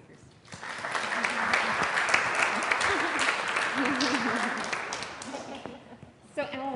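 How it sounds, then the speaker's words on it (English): Audience applause for panel speakers at a farming and sustainability event, moderate and steady for several seconds with voices talking over it before it tapers off. "join me in giving a round of applause for our speakers"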